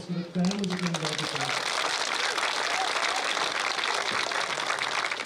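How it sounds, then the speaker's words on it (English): A crowd at a junior football awards ceremony breaks into steady applause for the families, rising right after a brief spoken line and continuing as dense clapping throughout. "big round of applause for the families of the involved"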